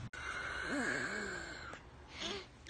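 A tired person yawns up close, a drawn-out voiced moan that wavers in pitch, followed by a shorter, softer second exhale.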